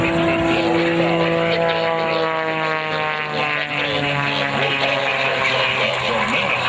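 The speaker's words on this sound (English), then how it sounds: "the Pitts is still in production as a production airplane with power plants in excess of" Pitts aerobatic biplane with an engine of over 350 horsepower droning past at an air show, a loud sustained propeller buzz with shifting pitch that dips briefly midway, heard without talk.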